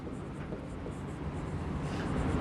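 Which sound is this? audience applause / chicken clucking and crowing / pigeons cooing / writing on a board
writing on a board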